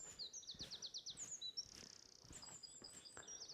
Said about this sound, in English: Lovely wrens singing there.